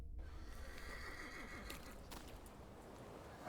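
A horse neighs in The Thaumaturge video game, one clear whinny with a faint clip-clop of hooves, short and close, with no one speaking.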